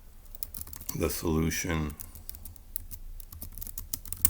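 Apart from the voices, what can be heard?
typing on a computer keyboard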